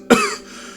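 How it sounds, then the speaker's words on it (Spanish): A single short dry cough, close and fairly loud, with a sharp onset and a quick fade into a quiet room tail. "Hizo una pausa para expulsar una tos seca."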